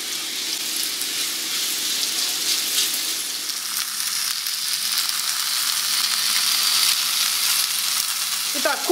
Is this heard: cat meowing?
no